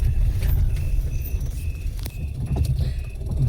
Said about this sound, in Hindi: अब मैं यहाँ से गाड़ी बैक करता हूँ